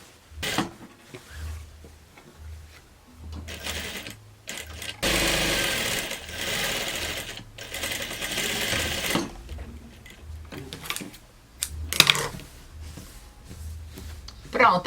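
A sewing machine stitches a curved seam on a shirt in bursts of fast, even motor chatter separated by pauses, with one longer continuous run. Someone talks in Portuguese during the gaps.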